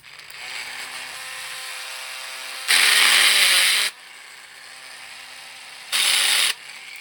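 A drill bores out the rivet of a Hot Wheels die-cast car in two bursts of high whirring, the first over a second long and the second shorter, with a steady mechanical hum between them and no talk.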